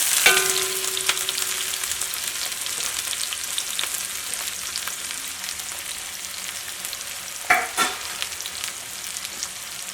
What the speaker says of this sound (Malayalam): ഇതെല്ലാം കൂടിയിട്ട് നന്നായിട്ടൊന്ന് വഴറ്റിയിട്ട് എടുക്കാം.